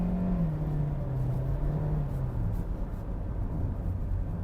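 A car with a 2-litre, 2000 cc engine accelerates in sports mode. Its engine note holds steady and close, with a low tone that drifts slowly downward throughout.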